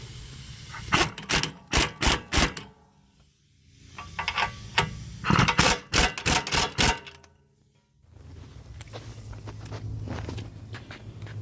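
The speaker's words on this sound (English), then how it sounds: "Now I'm just tightening this back up." Bursts of rapid ratcheting clicks in three rhythmic runs while bolts are tightened on a 2014-2020 Acura rear suspension link, with quieter gaps and a low steady hum between bursts.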